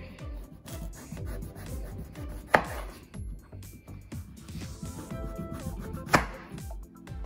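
A knife roughly chops raw pumpkin on a cutting board in a steady run of close, dull thuds, with two sharper louder knocks standing out.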